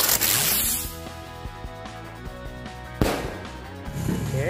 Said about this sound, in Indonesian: selanjutnya kita nyalain mercon Super Blitz